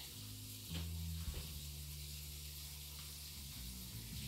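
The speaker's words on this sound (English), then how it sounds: "Then I'm going to rinse off my cabbage here." Cabbage is rinsed under running water, a soft continuous hiss of flowing water close by with a faint low hum beneath it and a few small bumps.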